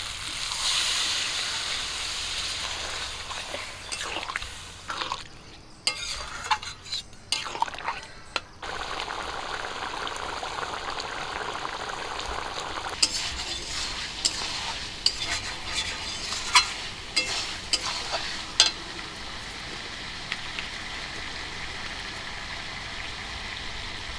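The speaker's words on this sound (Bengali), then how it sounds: "মাংসগুলো খুব ভালো করে কষিয়ে নিয়েছি কষানো হয়ে গেছে" Chicken curry meat and spices fry in a pan, a steady close sizzle broken by repeated scrapes and knocks of a spoon as it is stirred, with a short muffled lull in the middle.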